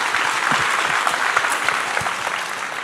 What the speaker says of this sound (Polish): Dla nich szczególne brawa